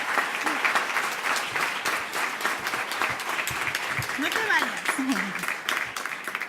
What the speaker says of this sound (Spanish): Un aplauso para Patricia.